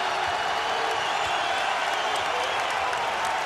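Basketball arena crowd at a Providence versus Creighton college game roars after a dunk, a dense, steady wash of cheering and applause with no clear pauses.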